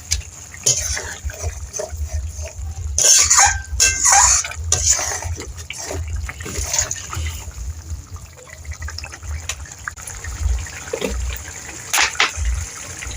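Mustard fish curry of rohu and puti fish with taro bubbling steadily in a pan, a continuous close wet simmering hiss with brief louder gushes of boiling liquid.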